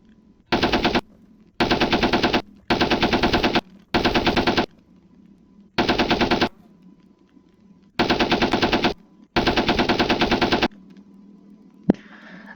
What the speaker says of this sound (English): here we have the MG15, and let's do a firing test of it.